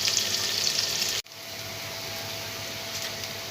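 Onions fry in a pan with green chilies and ginger, giving a steady close hiss of sizzling that breaks off for a moment and then resumes slightly quieter.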